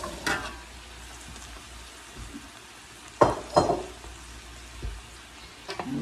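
Bread cubes stirred in a hot pan for Italian sausage dressing, a low crackling fry with a few distinct scraping and clinking stirs, nearby and without talking.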